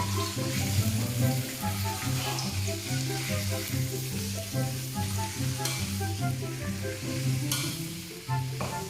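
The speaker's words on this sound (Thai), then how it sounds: "เอาใส่หมูใส่แล้วเราก็ผัดกัน" Pork and water spinach are stir-fried in a hot pan, giving a loud, steady sizzle with frequent tossing and stirring over a low rhythmic hum, without any talking.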